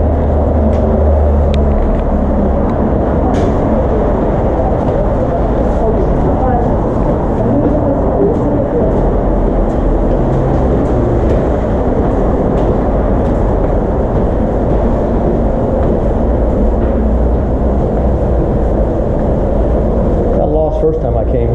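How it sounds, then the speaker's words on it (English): Loud, continuous rumble of trains running through a Seoul subway station, a steady low roar filling the space with occasional clanks and people talking underneath. "So now we're going to enter the subway."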